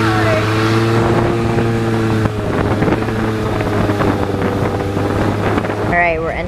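Loud boat motor drones steadily with strong wind buffeting during a noisy ride on the water in Thailand, the engine pitch shifting partway through, with a brief faint voice near the end.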